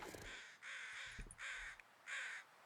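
Three distinct, harsh caws from carrion crows in The Long Dark video game, evenly spaced with short quiet gaps between them, clear and moderately close against a faint background.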